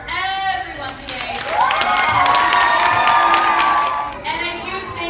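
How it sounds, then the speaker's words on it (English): A school assembly crowd gives performers loud, sustained applause mixed with children's cheers and whoops, swelling to a roar through the middle before easing off, with a voice heard near the start and end. "Huge round of applause for everyone today."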